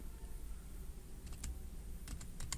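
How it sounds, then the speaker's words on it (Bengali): Quick keystrokes on a computer keyboard as a web address is typed, a short cluster of light clicks followed by a few more taps ending with Enter, close and clear over a steady background hum. "www.blogger.com দিয়ে এন্টার চাপ দিলাম"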